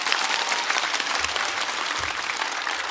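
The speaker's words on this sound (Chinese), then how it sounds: "掌声送给他们" An audience at a Chinese stand-up comedy competition show claps, a loud, dense and steady burst of applause from a large crowd that fills the whole stretch.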